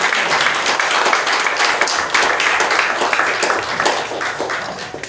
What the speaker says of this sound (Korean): 힘차게 박수